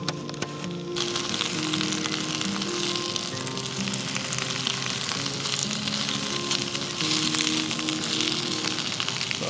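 Spinach wilting in a hot pan for bibimbap gives a steady, close sizzle and crackle of frying that runs the whole time, with faint stirring and no talk.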